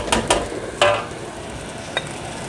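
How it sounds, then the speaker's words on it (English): Fried rice with onions and bacon stir-fried in a hot pan, close and fairly loud, with a few sharp scraping strokes over a steady sizzle. "breaking the rice up and mixing the onions and bacon all the way through it"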